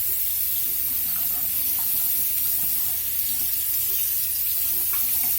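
Tap water runs steadily and loudly into a sink as a makeup brush is rinsed, a constant close hiss and splash with no pauses.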